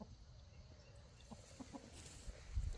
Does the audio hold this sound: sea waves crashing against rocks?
no